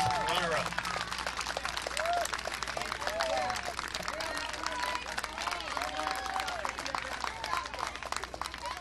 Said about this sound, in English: round of applause for Leland, North Carolina